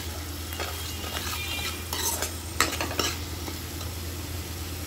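Spices being stirred into a frying masala of turmeric, Kashmiri chili and salt: a steady close sizzle with scraping stir strokes and occasional utensil clinks against the pan.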